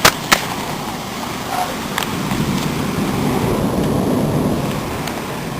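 A rainy-day thunderstorm outdoors: a couple of sharp thunder cracks at the start, then a steady, loud wash of rain building slightly and continuing throughout, with no voices.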